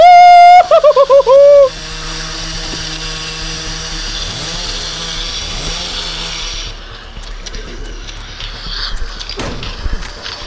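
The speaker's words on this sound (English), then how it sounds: "We got a chainsaw!" A short burst of chainsaw revving roars up and dies away near the start, followed by steady game noise and scattered clatter, in the zombie video game Into the Dead 2.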